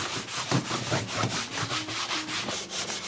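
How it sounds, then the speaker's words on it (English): A Scrub Ninja brush is scrubbed over a car's interior trim during detailing, giving a steady, rhythmic back-and-forth rubbing of bristles, close and fairly quiet, with no speech. "I put a little bit on my Scrub Ninja. I'll put a little bit on here, scrub it"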